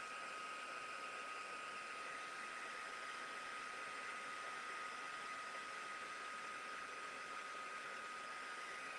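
A heat tool blows steadily while heat-setting ink on card stock, a constant close whooshing hum with no break and no talking.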